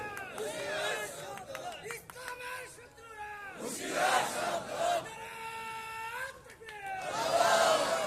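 A large crowd at a Bangladeshi Islamic sermon gathering shouts the Takbir chant in response, several loud massed bursts of voices swelling and fading, alternating with a single speaker's calls over a hall-like reverberation.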